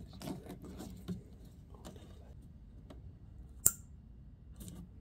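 A wiring connector snaps into place during a tow upgrade on a Ford Bronco, giving one sharp, near click amid faint handling and rustling noises.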